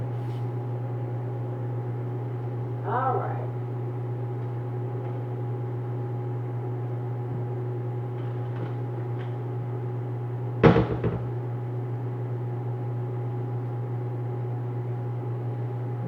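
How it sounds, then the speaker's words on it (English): Ramen noodles cook in a microwave oven with a steady low hum. A brief voice comes partway through, and a loud clunk follows near the end. "we've got our ramen noodles cooking in the microwave for 3 minutes"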